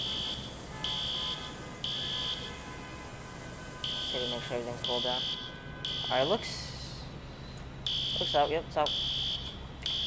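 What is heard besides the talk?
fire alarm sounding, from a video game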